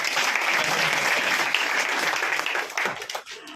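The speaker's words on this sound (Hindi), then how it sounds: "इनका स्वागत करना है, ताली बजा के सब जगह।" Audience at an Ayurveda event marking a guru's death anniversary breaks into sustained, dense applause, loud and steady before thinning out near the end.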